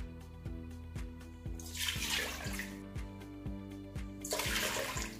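Cold water for okra-pastry (bamieh) sugar syrup is poured in two rushing splashes, each lasting about a second, over steady rhythmic background music, with no talking.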